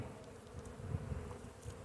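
Honeybees buzzing around a beehive frame, a soft steady hum with individual bees droning close by, faint and continuous over a short stretch.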